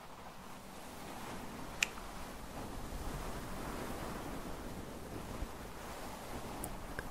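Soft, steady wind-like rush recorded on a new microphone, a broad continuous hiss with no clear gusts, a single tiny click near the start of the sound.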